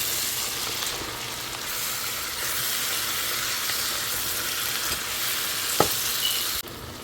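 Turmeric and chili powder are stirred into mango and jalpai pickle frying in a pan, giving a steady close sizzle with a few spoon scrapes and knocks against the pan, and no talking.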